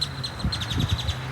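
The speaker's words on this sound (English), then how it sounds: "Birds are singing." Birds singing outdoors in central Texas between passing rain showers, a rapid series of repeated chirps at steady rhythm, clear and fairly close over a low windy rumble.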